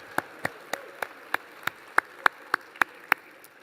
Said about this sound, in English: let's show our appreciation by giving David another round of applause